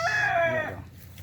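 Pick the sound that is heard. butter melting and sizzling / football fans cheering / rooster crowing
rooster crowing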